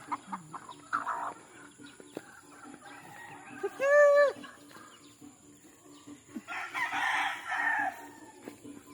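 Chickens and chicks in a backyard brooder: soft clucks and chirps, one loud nearby rooster crow in the middle, then a burst of busy clucking and cackling near the end.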